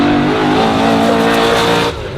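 Race cars on the opening lap at Snetterton pass with a loud, close engine roar that holds steady and then begins to fade.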